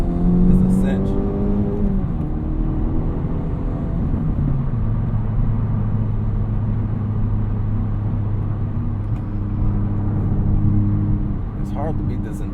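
An Acura Integra Type S accelerates from inside the cabin, a steady loud engine rumble that climbs in pitch through the gears with a shift partway through, continuing under the road noise.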